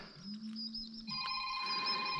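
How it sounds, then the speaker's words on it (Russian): A phone rings faintly with a thin electronic tone on a quiet foggy evening at a riverside fishing spot, a steady ringing pattern over soft background hiss. "Звонят."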